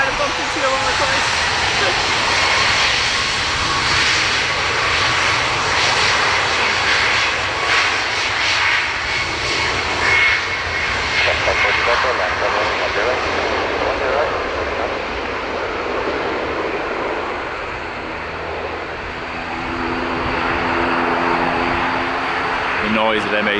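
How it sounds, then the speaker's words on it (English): ATR turboprop engines roaring at Dublin Airport, a loud sustained drone that swells and fades slightly, with people talking nearby under the noise. "The noise of them ATRs. No business being that loud."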